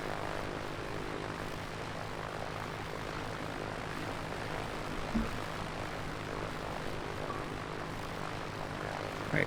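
Steady droning of a propeller plane's engine running on the ground in Microsoft Flight Simulator, an even humming buzz that holds at one level throughout with a faint thump in the middle, no voices.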